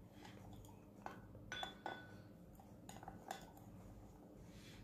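A spoon stirs a vinegar mixture, likely apple cider vinegar, in a glass or cup, producing faint, scattered clinks and taps against the sides over a quiet background, with no talking.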